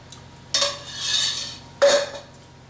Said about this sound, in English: get your ladle in there and kind of smooth it all around